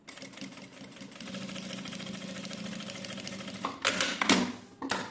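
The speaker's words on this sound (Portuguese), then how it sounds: "Vamos lá fazer essa costura." Sewing machine stitching a seam, a steady continuous mechanical whir running close and fairly quiet, followed by a few louder short clattering bursts near the end.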